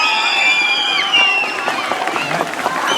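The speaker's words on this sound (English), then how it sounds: "big round of applause for our coaches" A crowd at a swim team's end-of-year party applauds and cheers for the coaches, steady clapping with whoops and shouts, loud and close throughout.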